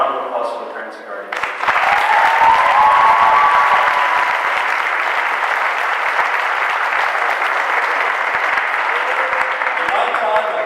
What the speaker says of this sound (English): graduates, a round of applause for the parents and guardians